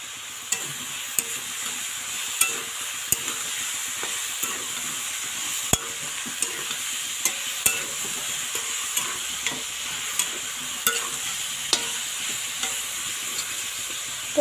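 A spiced curry mixture sautéing in a pan, a soft continuous sizzle broken by regular light clinks of a spoon against the pan, quiet and close.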